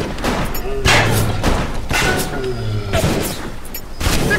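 Repeated heavy gunshots from a sniper in BioShock, a string of booming thuds spaced roughly half a second apart, loud and close, with a voice talking in between.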